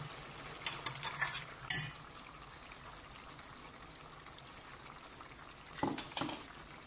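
Ground coconut being stirred into a cluster beans curry in a pan, with a few brief scraping and clattering bursts near the start and again toward the end, faint sizzling between them.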